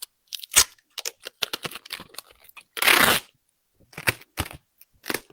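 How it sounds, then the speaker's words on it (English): Scissors snip and tear through material while trimming a homemade full dress mannequin, a run of irregular close crisp cuts with one longer ripping stretch in the middle and pauses between. "then we're going to cut this and trim her out."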